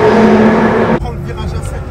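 A GT4 race car at the Spa-Francorchamps circuit during a track event, its loud engine roaring close by for a moment before cutting to a lower, rougher drone.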